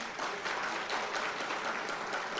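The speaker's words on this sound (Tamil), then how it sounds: "அந்த பிள்ளைகளுக்கெல்லாம் ஒட்டு மொத்தமாக ஒரு கைத்தட்டல் கொடுங்களேன்." A crowd at a humorous Tamil speech event gives a round of applause for children, a dense, even patter of clapping heard at moderate distance throughout.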